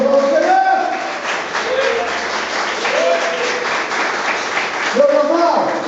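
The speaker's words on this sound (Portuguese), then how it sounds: "Palmas para o Senhor Jesus." A church congregation claps in a sustained burst of applause during a Portuguese-language sermon, with voices calling out over the steady patter.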